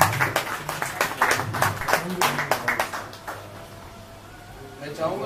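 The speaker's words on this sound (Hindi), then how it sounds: "मैं चाहूँगा बिल्कुल बेहतरीन किस्म की तालियां बजा दीजिए।" Audience applause at an award ceremony, a short burst of irregular claps over the first few seconds at moderate level, fading into room noise, with people talking around it.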